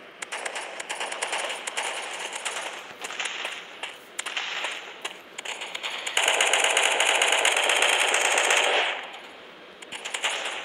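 Rapid shotgun and gunfire bursts ring out from the Mask Gun video game, with quick clusters of sharp shots separated by brief pauses and a sustained dense stretch of firing near the end.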